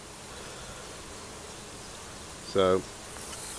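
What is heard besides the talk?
honey bees buzzing around a bait hive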